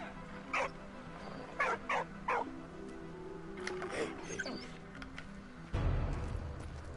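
A dog barks in the World War I video game Valiant Hearts: The Great War, giving several short, sharp barks in a cluster, then a few more, over a low game background that swells into a louder rumble near the end.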